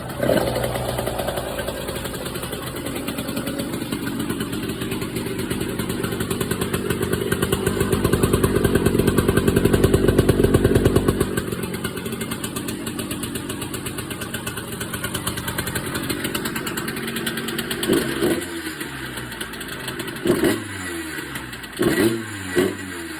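A Honda CR125 dirt bike engine with a freshly repacked muffler sputters to life and runs steadily at a loud idle, swelling briefly in the middle before settling, with a few clunks near the end.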